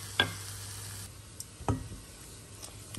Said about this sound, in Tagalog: sa isang kawali, i-fry natin yung chicken natin dito